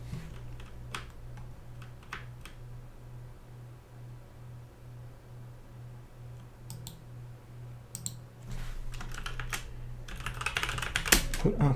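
Keys clatter on a computer keyboard as a password is typed, a run of quick clicks over a low steady hum, growing denser and louder toward the end.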